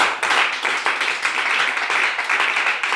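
Congregation at a French-speaking church service clapping together in steady, brisk applause, a dense patter of many hands sustained for the whole stretch at moderate loudness.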